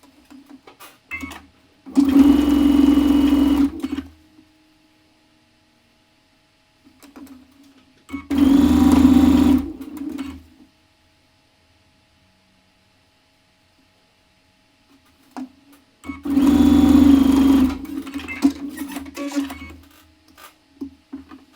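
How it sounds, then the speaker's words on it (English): A sewing machine stitches quilt pieces onto rows in three separate bursts, each a steady whirring run of a couple of seconds, close and clear, with near silence between them. "now it's time to sew the final piece onto each row"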